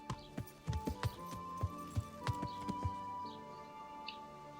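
Rhythmic clip-clop of horse hooves on a hard surface in the video game Kingdom Come: Deliverance, steady and fairly close, with faint bird chirps in the background.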